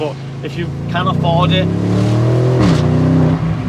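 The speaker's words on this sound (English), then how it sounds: "The Lamborghini Urus stock exhaust does sound good" A Lamborghini Urus on its stock exhaust revs with a deep, rising engine roar that swells midway and holds loud, under someone talking over it.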